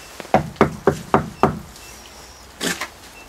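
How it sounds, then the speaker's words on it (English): Five sharp knocks on a wall in a forest at night, evenly spaced and close, then a pause and one duller knock, with no one talking. "Hey, I heard a knock."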